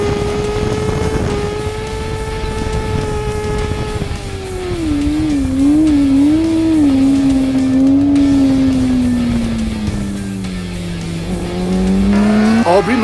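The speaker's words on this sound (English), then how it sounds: "he makes that Kawasaki ZX10 machine screech and squeal and beg for forgiveness down the main straight track at Kyalami" Kawasaki ZX10 superbike on Bridgestone tires screaming down the main straight at Kyalami race circuit, a loud high-revving engine wail that holds, rises and dips through gear changes, steady and close for the whole stretch.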